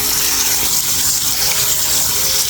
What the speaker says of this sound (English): I'm just running some cold water in now